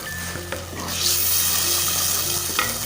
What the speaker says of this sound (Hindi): चिकन हमारा फ्राई हो गया